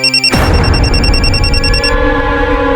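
A loud, steady electronic ringing tone starts abruptly and holds, with a strong low rumble underneath; no one speaks.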